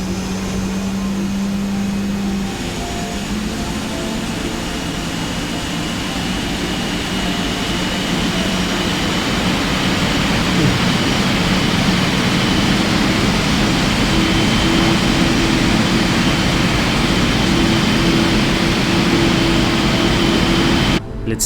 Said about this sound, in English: Oh, listen to that engine start up, man.